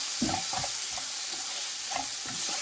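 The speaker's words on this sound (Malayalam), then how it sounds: "ഇനി ഇതെല്ലാം കൂടി ഇതിൽ നന്നായിട്ട് മിക്സ് ചെയ്ത് അതിൻ്റെ പച്ചമണം മാറുന്ന വരെ ഒന്ന് ഇളക്കി കൊടുക്കുക." Prawn roast masala sizzles in a pan while a spoon stirs it, with soft scraping strokes coming in irregular bursts over a steady close frying hiss.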